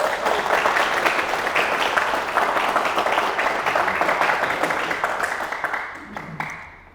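A seated audience at a televised local-election candidate talk claps steadily for several seconds, the applause thinning and fading out at the end.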